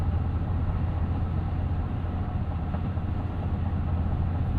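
Steady low road and tire rumble inside a tuned twin-turbo 2026 Toyota Tundra TRD Pro off-road truck, a constant broadband drone without pauses or voices.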